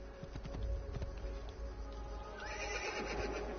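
A horse in the Assassin's Creed Ezio Collection video game neighs loudly, with clip-clopping hooves and game ambience around it.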